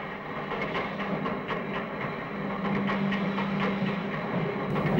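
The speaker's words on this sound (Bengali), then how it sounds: "এই তো ও ট্রেন এসে গিয়ে।" A train arrives in an animated film version of Sonar Kella, giving a steady rumbling roll with faint rhythmic clicks that swell slightly toward the end.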